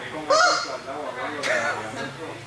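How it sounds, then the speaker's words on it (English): A rubber chicken toy gives a honking, goose-like squeak beside a parked car at a drift event, with two squawks spaced about a second apart, loud and close, while people talk nearby. "Rubber chicken."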